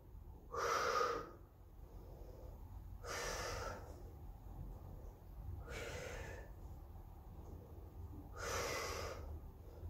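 Heavy breathing during a dumbbell workout, four slow, breathy exhalations spaced evenly a couple of seconds apart, close and fairly quiet over faint background noise.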